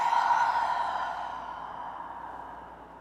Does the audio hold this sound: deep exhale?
yes